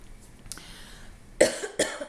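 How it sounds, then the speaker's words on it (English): Two sharp, close coughs about half a second apart, loud against a quiet background. "I keep coughing"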